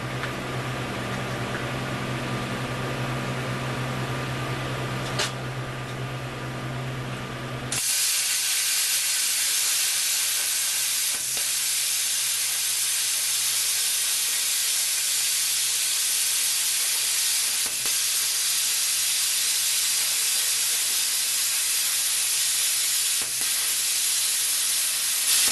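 An Everlast Supercut 50P plasma cutter cutting metal gives a loud, steady broadband hiss that starts abruptly after a lower humming stretch and continues evenly, close to the listener.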